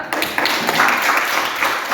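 Brief scattered applause from an audience at an Indonesian-language presentation session, a few seconds of light, uneven clapping at moderate volume.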